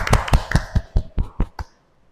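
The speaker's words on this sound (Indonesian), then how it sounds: "Tepuk tangan." A classroom audience claps during a teaching practice session: a short burst of about eight close, sharp hand claps in a loose rhythm, then silence.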